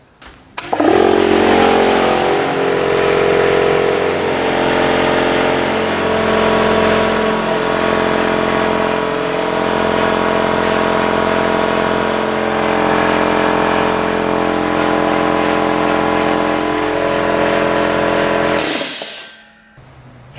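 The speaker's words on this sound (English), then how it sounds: "I'm going to fill it with the 3 horsepower piston type compressor." A 3 horsepower piston-type air compressor fills an empty tank at a steady, loud mechanical drone with a constant pulsing hum, running alone for nearly the whole stretch before cutting off at the end.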